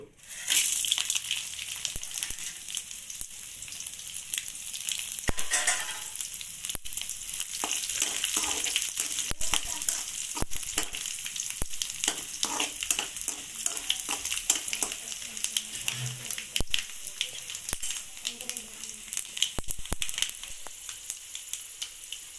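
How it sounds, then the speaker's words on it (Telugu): Coriander seeds, cumin, garlic, dried red chilies and urad dal fry in hot oil, a steady close crackling sizzle with occasional stirring scrapes, continuous and fairly loud throughout. "ఆయిల్ వేడెక్కిపోయిందండి. ఇప్పుడు వీటిని వేసుకుందామండి."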